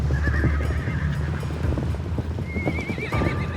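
A horse, likely one of the first brought to the Americas with Columbus's expedition, gives two loud shrill whinnies. Clip-clopping hooves and a low rumble continue underneath.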